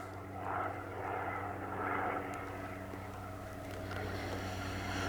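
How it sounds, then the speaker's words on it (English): Steady droning engine noise of aircraft passing overhead, a low continuous rumble with a faint rhythmic chop, fairly distant and unchanging throughout. "Got freaking helicopters, huh?"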